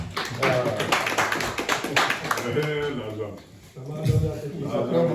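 An audience claps at a gathering, a dense patter of hands in the first half that fades as a voice talks over it, with louder talk returning near the end.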